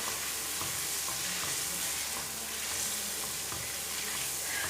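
Egg and semolina batter being mixed in a hot pan, a continuous sizzle and frying hiss with soft stirring scrapes, close and steady, with no talking.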